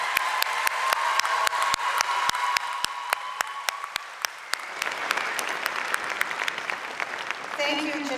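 Audience applause rings out at a 2017 North Hennepin Community College graduation ceremony, steady clapping from a large crowd running the whole stretch, fading slightly near the end as a voice begins.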